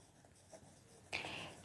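A pen scratches quietly across paper while a geometry step is written out, with a few soft strokes and then a brighter, sustained stretch of writing, close and alone with no talk.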